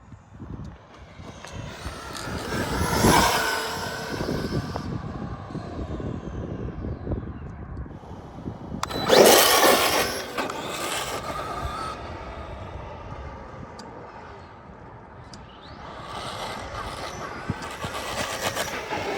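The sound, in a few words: Traxxas Maxx 4s RC car driving at speed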